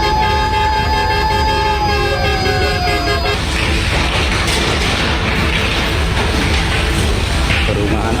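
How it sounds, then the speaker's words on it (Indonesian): A fire truck arrives at a house fire in Jember. Its wailing siren sweeps up and down, then drops out into loud, close engine and road noise with a few horn toots. "Tak berselang lama, petugas pemadam kebakaran Jember tiba di lokasi."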